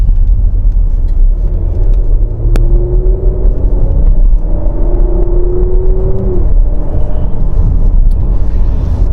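A 2022 Porsche Macan S petrol SUV driven in sport mode over a bumpy, potholed road, a loud steady engine and road rumble heard from inside the cabin, with a brief rising whine, no talking.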